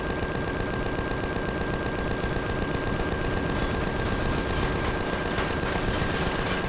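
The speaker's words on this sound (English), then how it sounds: "my base just started shooting at him" Automated base turrets in Empyrion Galactic Survival fire at a troop transport in a dense, unbroken barrage of rapid shots, loud and continuous throughout, over a steady droning engine hum.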